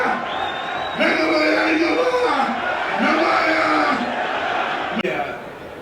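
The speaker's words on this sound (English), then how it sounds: "Enormous crowd here, it is fantastic" An enormous crowd at a presidential campaign rally in Yola, Adamawa, yells and cheers loudly as a continuous swell of voices, with whoops rising and falling near and across the crowd throughout.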